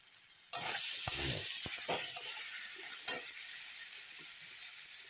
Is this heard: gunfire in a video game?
no